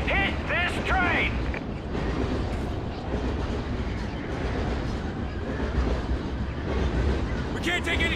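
A train in the video game Call of Duty Ghosts rumbles and clatters steadily and loudly throughout, with brief speech-like tonal sounds near the start and end.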